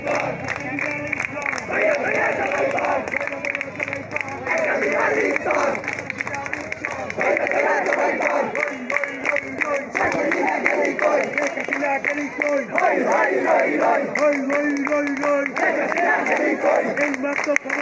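Dense crowd noise at a mass street procession in Bangladesh, a steady roar of many voices with shouting, cheering and scattered clapping running throughout at constant loudness.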